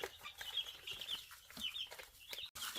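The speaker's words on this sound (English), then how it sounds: "In the background there, you'll see some of the hens are already checking them out." Hens in a backyard chicken coop cluck softly and continuously near newly moved baby chicks, with high chirping peeps above and a faint, fairly close murmur of fowl activity.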